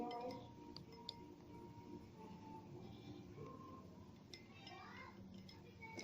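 A spoon stirs a glass containing sugar, oil and water, producing light glassy clinks and scraping taps scattered irregularly across the clip, close and soft over a low background hum.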